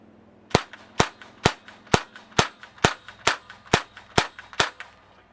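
A Mini Uzi .177 caliber air gun fires eleven sharp cracks in an even, rhythmic semi-automatic string, each shot close and loud with a quick decay and no talk between them.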